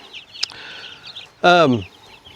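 A meat chicken gives a loud, close cluck-squawk after a quieter earlier call, over faint background noise.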